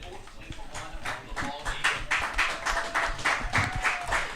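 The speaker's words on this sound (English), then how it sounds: "to a loud cheer from that home crowd" Home crowd at a Saugerties Stallions versus Amsterdam Mohawks baseball game cheers and claps loudly as a pitcher walks back to the third base dugout, a rising ovation heard under a commentator's voice.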